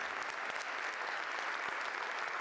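An audience at the 2014 Darley Awards ceremony in Hollywood breaks into sustained, even applause, a dense wash of clapping with no pauses.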